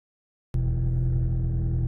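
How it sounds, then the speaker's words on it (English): Audi TT 2.0 TFSI engine idling steadily after coil pack and spark plug replacement, a close, even low hum that starts abruptly and holds without any talking. "The car drives perfectly and the engine is running smoothly and revving freely"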